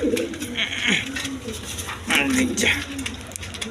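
Lalgarh pigeons, a male and female breeding pair, coo in repeated low throaty bursts close by, with someone talking over much of the cooing.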